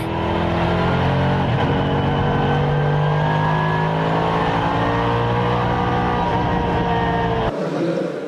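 Race cars at speed on a circuit roar past, with engines revving and climbing through gears continuously for several seconds, loud and close, before the sound cuts off sharply near the end.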